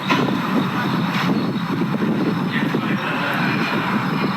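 Strong wind roars steadily into the microphone outdoors at a house under construction, a broad continuous rush with gusty swells, and a voice speaks briefly over it.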